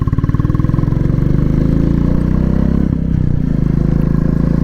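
A Royal Enfield Classic 350 motorcycle engine idles close by, its exhaust thumping in a loud, steady, rapid rhythm with a slight change in pace partway through.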